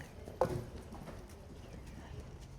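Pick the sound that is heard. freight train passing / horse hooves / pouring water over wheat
horse hooves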